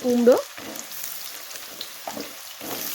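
Potato and sweet pumpkin frying in a pan and being turned over: a soft, steady sizzle with a few light scraping stirs, opened by a short tonal squeak.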